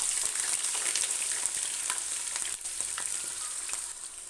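Two large onions fry in hot ghee in a karahi, a loud continuous close sizzle with bright crackle and a few stirring scrapes and knocks, no talk.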